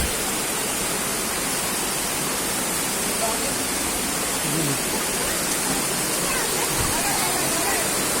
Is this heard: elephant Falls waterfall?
yes